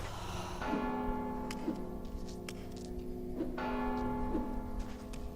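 Bell tolls ringing out in the stealth video game Mark of the Ninja, two pairs of resonant strikes with long humming decay over a steady game soundtrack.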